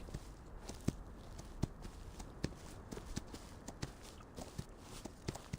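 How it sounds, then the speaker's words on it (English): Mule footsteps in the video game Reverse 1999: soft, irregular hoof thuds and clops, about a dozen spaced steps over a low ambient game background, moderately close and fairly quiet. "Where I can hear the mule footstep."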